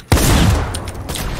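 One loud, close gunshot cracks out in a video game, and then a short ringing decay and some fainter follow-up noise fill the brief moment.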